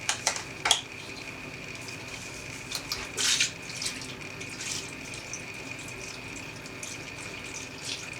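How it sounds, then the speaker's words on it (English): Apple juice pouring into a glass for a mixed drink, a quiet steady liquid trickle with a few light clinks and taps of glassware, faint and close. "Then all we're just going to do is add some apple juice."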